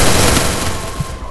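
A loud, dense burst of rapid MP40 submachine-gun fire in the Free Fire video game, filling the whole short stretch with sustained crackling shots.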